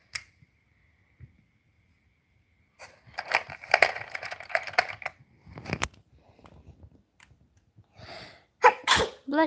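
A sharp sneeze bursts out near the end after quiet stretches with soft handling of magnetic stick toys and brief clatter.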